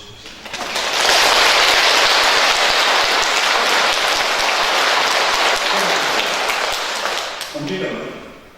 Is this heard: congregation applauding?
yes